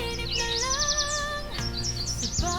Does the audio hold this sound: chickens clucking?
no